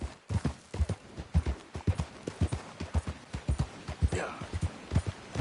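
Horse hooves clip-clopping at a steady walking rhythm in Red Dead Redemption 2, close and clear with a brief snort, while characters exchange greetings nearby.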